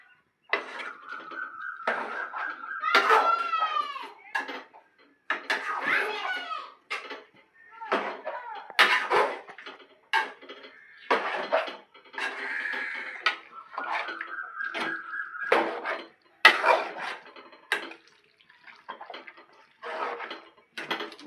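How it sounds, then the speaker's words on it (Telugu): Chicken curry pieces being mixed with spices in a pan, with repeated scraping and clattering of a utensil against cookware in bursts, while a voice talks over much of it. "ఇప్పుడైతే అన్నీ మిక్స్ చేసుకుందాం"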